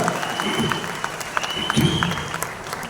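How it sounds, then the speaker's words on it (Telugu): A crowd at a gathering claps for Lakshmi madam, a fairly close patter of hands with a few sharper individual claps, while faint voices sound underneath. "చలో బిగ్ క్లాప్స్ లక్ష్మీ మేడం కి,"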